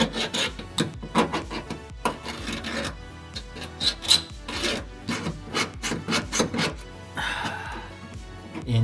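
A scribe drawn repeatedly along a metal patch panel for an R32 GTR rocker, making rhythmic scratchy rasping strokes close by. Some strokes are louder, and a few faint metallic taps mix in.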